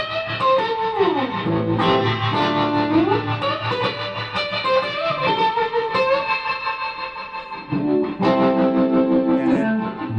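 Distorted electric guitar chords through a Quilter Tone Block 200 amplifier head ring out with heavy reverb, notes sliding and sustaining, then a fresh strummed chord blooms near the end.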